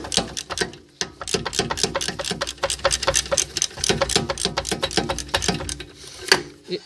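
A tool works quickly on the rear brake caliper bolts of a Mercedes C200. Rapid, close, uneven mechanical rattling and clicking bursts go on throughout, with brief pauses, and nobody talks.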